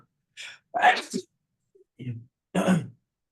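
A single sharp sneeze from a person at a computer during an online chess game, with a second burst following. Short close bursts separated by silence, with people talking nearby.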